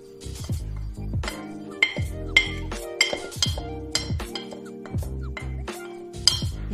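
Crumb dough for ginger cookies is mixed with brown sugar, cinnamon and ginger in a bowl, with a series of close, sharp clinks and taps from the utensil over a steady tonal background.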